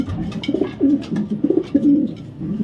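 A pigeon hen coos close by in a series of soft, throaty, rolling calls, repeating at an uneven rhythm with short gaps between them.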